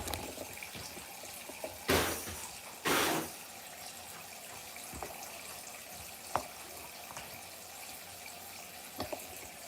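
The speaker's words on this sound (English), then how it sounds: "Here, I'll turn your sink on." A small sink tap gives two brief bursts of running water, each cut off quickly, followed by scattered faint drips in a quiet room near a pet cockatoo.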